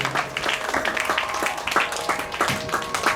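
Audience applause for a keyboard artist at a Kannada classical music concert, a dense run of quick claps filling the hall at moderate loudness, steady throughout.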